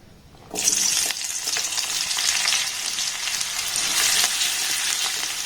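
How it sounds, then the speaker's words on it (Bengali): Chopped onions and green chillies hit hot oil for an egg paratha, bursting into a loud, steady sizzle with occasional stirring scrapes, no voices. "পেঁয়াজটাকে দেখুন একটু ভালোভাবে নাড়াচাড়া করে ভেজে নিয়েছি"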